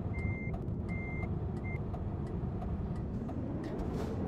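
A truck in a trucking video game reversing with its tractor unit, giving three evenly spaced high electronic reversing beeps over a steady low engine rumble, then only the engine drone.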